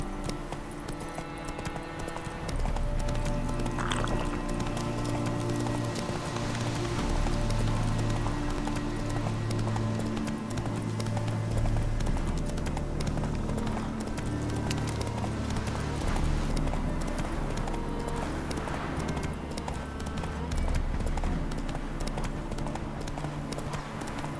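Horse hooves galloping in The Witcher 3, a fast, continuous clip-clop rhythm over a loud rumbling game soundscape, with a brief neigh-like cry early on and a faint voice at times.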